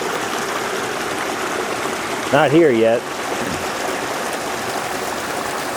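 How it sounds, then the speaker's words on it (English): Sunrise Creek on a hiking trail at dawn, a steady rushing flow of water close by that fills the whole stretch, briefly under a short spoken remark. "Here's Sunrise Creek, where I just got filled up on water."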